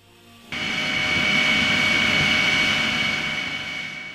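A Lockheed U-2 spy plane on a test flight roars in abruptly as a loud, sustained jet engine rumble with a high whine, holding steady, then easing slightly toward the end.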